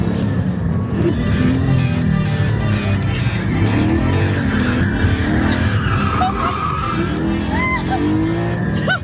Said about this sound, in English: You can really feel like that awesome 6-cylinder motor kicking in.